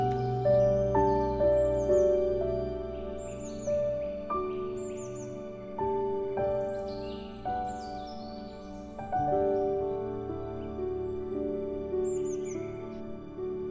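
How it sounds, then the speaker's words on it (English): High, thin fantail flycatcher calls in short chirping phrases repeat every second or two over a soft background of other tones. "there's a fantail flycatcher over here."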